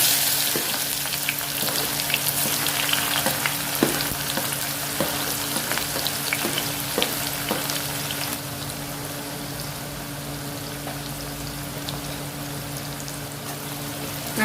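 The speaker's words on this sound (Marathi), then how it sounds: "कांदा आपण चांगला फ्राय करून घेणार आहोत गॅसची फ्लेम मोठीच आहे" One and a half onions frying in oil over a high gas flame for aloo biryani, a steady dense crackling sizzle broken by scattered sharp pops and stirring scrapes, close and continuous.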